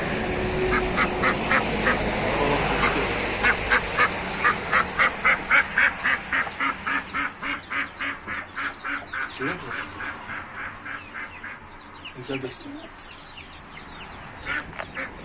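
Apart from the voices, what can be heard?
duck quacking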